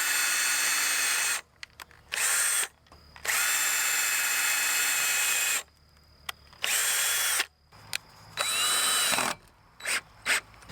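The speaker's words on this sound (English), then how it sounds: "I can use the self-tapping tech screws all the way up along the rest of the channel" Power drill driving self-tapping tech screws into metal channel on a Growers Solution Quonset greenhouse end wall, several loud whining bursts of varying length separated by short pauses, the motor pitch rising and falling near the listener.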